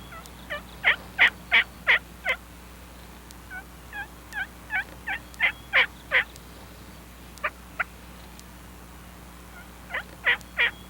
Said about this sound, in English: The gobblers, he's still hanging way out there.